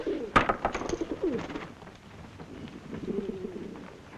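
Pigeons cooing nearby, a few soft, rolling coos with light rustling and one sharp click, fairly quiet and alone without talk, trailing into a lower murmur of cooing near the end.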